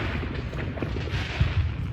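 Fourth of July fireworks play from a television, a continuous muffled rumble with dull booms and thuds rising from it, heard in a room at moderate volume.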